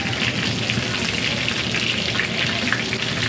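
Lady finger fish fillets fry in a small pan, a dense, steady crackling sizzle heard up close without pause.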